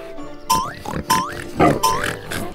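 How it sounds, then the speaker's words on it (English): Several short pig grunts and squealing oinks from cartoon pigs in damp mud come in quick succession, close and fairly loud, with brief pauses between them. "The pig family enjoying the damp mud."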